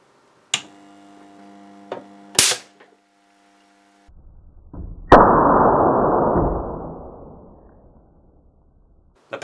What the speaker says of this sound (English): I guess the arc was actually just between the trigger and the first terminal